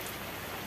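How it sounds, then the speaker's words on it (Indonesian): Steady dense rain falling outdoors at a fishing spot, a loud continuous hiss of drops with no break and no voices. "Cuacanya lagi hujan."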